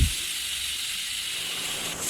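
A pressure cooker cooking dal on a gas stove lets out a continuous steamy hiss, close and steady, with no clear whistle pitch.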